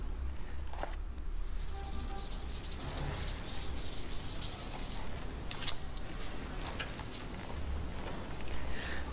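Steady hand sanding of a metal engraving sheet with fine 500-grit sandpaper, a continuous close rasping rub that runs unbroken throughout, with brief brighter scratchy bursts along the way.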